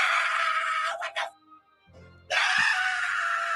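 A man screams loudly and hoarsely, breaks off into short gasps and a low groan, then lets out another long, raw scream.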